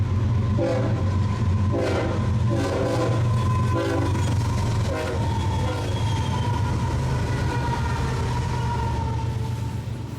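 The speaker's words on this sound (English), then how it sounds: "Our first train of the day is a high-priority BNSF eastbound, making its way through Fullerton, California." High-priority BNSF eastbound freight train rolling through Fullerton, California, sounding its horn in several loud blasts over a constant heavy rumble of passing cars, up close with no voices.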